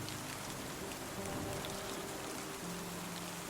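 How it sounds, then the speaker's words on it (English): A rain storm sound effect: a dense, steady hiss of heavy rain pouring without pause, with a faint low rumble underneath. "But that does not keep the ferocity of this storm at bay for long."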